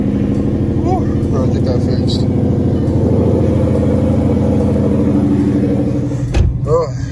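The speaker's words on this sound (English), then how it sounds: "Let's get a little cold start on this cold morning" Car engine running steadily in a loud, low rumbling idle on a cold morning after a cold start, with a brief voice and a sharp knock near the end.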